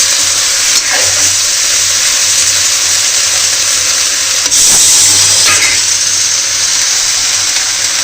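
Pressure cooker with dal hissing steadily on the stove, a loud continuous steam hiss with brief surges, heard alone without talk.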